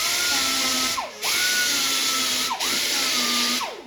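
A small angle grinder whines loudly as it grinds over screws and staples in a wooden pinball cabinet head, in three bursts of high-pitched motor tone broken by brief spin-downs and restarts.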